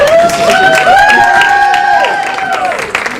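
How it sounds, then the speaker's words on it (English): A theater audience at a one-day play event applauds a team, with steady crowd clapping and cheering beneath a prominent sung or whooping voice, loud and close. "Some applause for Superstition"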